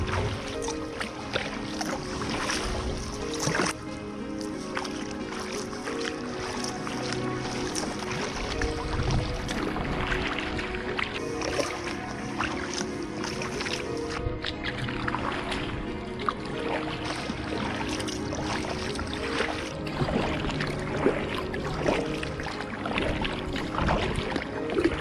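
A kayak paddled along an inland coastal waterway gives steady, close splashing and dripping from paddle strokes, with continuous water movement and a faint background hum throughout and no talking.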